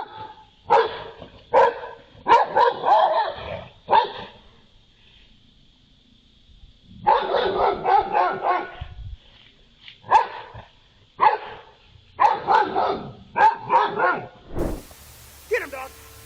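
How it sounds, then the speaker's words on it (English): A boxer dog barks in loud, repeated bursts at a black bear near a house, with yips and whimpers between volleys and pauses of near silence. "A boxer dog is one of the best security dogs you can have."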